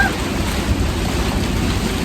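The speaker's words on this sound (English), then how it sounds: "The wind's shifted to the other side and the swell's picked up." Strong wind and heavy swell buffet a sailing boat off Japan in rain, fog and rough seas, a steady loud roar of wind and water with broadband rush throughout and no speech.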